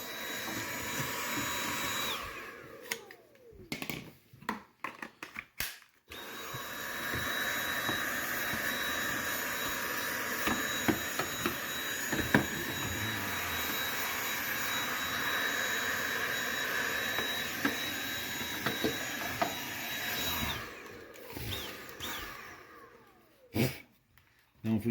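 A vacuum cleaner runs steadily while cleaning the condenser of a Samsung refrigerator, a loud continuous whine with bursts of clattering and knocks at the start and end as it is moved around.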